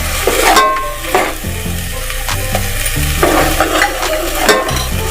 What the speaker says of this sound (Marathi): हे खोबऱ्याचं वाटण चांगलं या तेलामध्ये आपल्याला परतून घ्यायचा